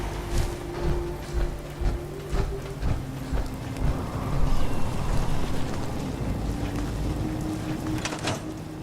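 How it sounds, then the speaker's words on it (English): Steady rain falls in Fallout 4, a dense wash of patter with low rumbling thumps underneath. It holds moderately loud throughout and swells slightly midway, with no talk over it. "Just thinking how wonderful it'd be to get out of this infernal rain"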